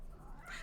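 A single brief cat meow, faint and short.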